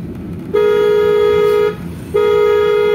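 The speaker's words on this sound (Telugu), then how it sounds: "బ్రేక్ టచ్ చేసుకొని హార్న్ కొట్టాలి" Car horn honking during a driving lesson, sounding twice as two long steady blasts, the first about a second long and the second held to the end, loud and close over road rumble.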